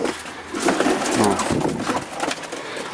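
Racing pigeons being basketed before a final race, a crowd of birds cooing and rustling together, close and fairly loud over a busy loft background.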